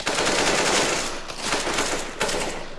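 Sustained automatic gunfire from a CS:GO match, dense rapid bursts filling the whole stretch with brief dips, loud and close.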